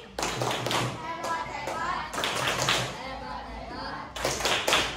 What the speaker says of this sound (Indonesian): tepuk hebat untuk Haura, Arvin dan Yudi